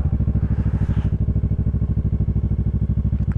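A motorcycle engine idles on a steep hill, a close, steady low-pitched thumping with an even pulsing rhythm and no talking.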